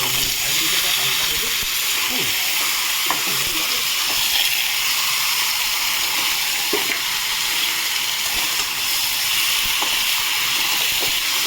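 Chicken pieces frying in a pan with chopped tomatoes for a Bengali chicken kosha, producing a steady, loud sizzling hiss with occasional small pops throughout.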